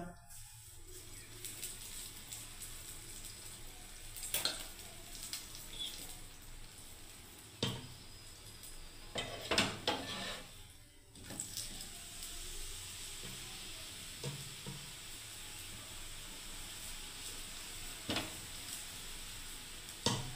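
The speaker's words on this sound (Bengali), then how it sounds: "দেখুন এবার আমি ঘি দিয়ে ভেজে দিচ্ছি বন্ধুরা" Paratha frying in ghee in a pan gives a steady, close sizzling hiss, broken by a few sharp clinks and scrapes of a utensil and brief stirring sounds, with no talking.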